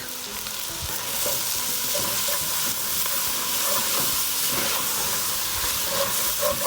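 Garlic sizzles loudly in a hot pot of chili, a steady dense hiss of frying with faint stirring scrapes, close and continuous throughout.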